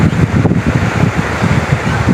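The flooded Sani river rushes past in a steady, close, broadband roar of churning water, with wind buffeting the microphone and no voices.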